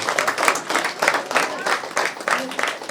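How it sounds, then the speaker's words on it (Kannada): An audience claps loudly at a pyramid opening ceremony in Ballari, a dense burst of applause that pulses in rapid rhythmic waves over a few seconds. "ಒಂದ್ಸರಿ ಜೋರಾಗಿ ಚಪ್ಪಾಳೆ ಮಾಸ್ಟರ್ಸ್."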